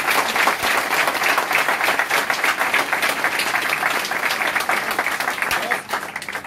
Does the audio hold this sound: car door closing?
no